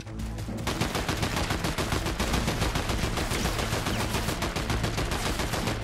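Rapid, sustained automatic gunfire in the Fortnite video game, aimed at the character Brutus, as a loud, dense stream of closely spaced shots that starts after a short opening burst and keeps going to the end, with no talking over it.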